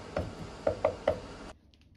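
A knife chops crushed garlic and ginger on a board: four crisp, close thuds in quick succession, then quiet.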